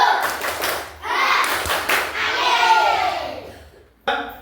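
Schoolchildren in a classroom doing a rhythmic clapping chant, with bursts of clapping and shouted group voices that rise and fall, then a sharp final clap.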